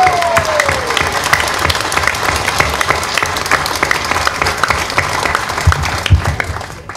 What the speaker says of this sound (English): Give yourself an applause, Singapore.